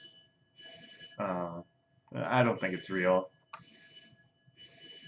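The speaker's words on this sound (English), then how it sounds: "My fire alarm is going off" A home fire alarm sounds in repeated high, shrill electronic bursts, fairly steady and moderately loud, while a person speaks over part of it.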